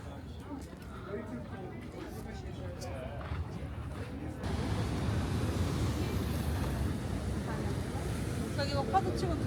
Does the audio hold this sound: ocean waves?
yes